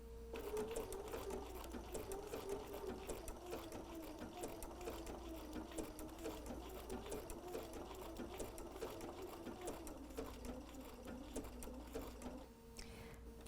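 A sewing machine runs steadily, stitching a heart appliqué onto fabric at close range, with a continuous whirring hum and a brief pause near the end before it resumes.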